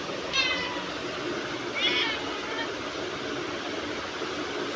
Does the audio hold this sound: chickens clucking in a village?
no